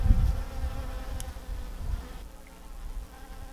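Bees buzz steadily among yellow flowers in a garden, a close, continuous droning hum that wavers in loudness with no voices.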